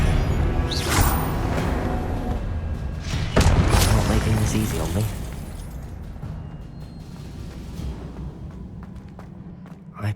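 Spells cast in the Hogwarts Legacy video game burst out as booming blasts and whooshes over a busy game soundscape, with one especially loud impact near the middle, then a quieter rumbling stretch.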